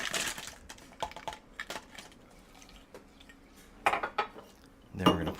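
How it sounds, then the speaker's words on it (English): Fresh ice cubes drop into a boba milk tea cup, clattering and clinking in several sharp bursts with quieter rattles between, close and alone without talk. "And we're going to add some fresh ice."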